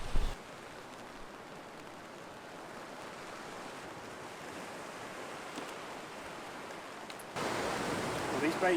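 Rain falls steadily outdoors during a bass fishing session after a storm, a soft broad hiss that holds level and then swells louder near the end, with no talk over it.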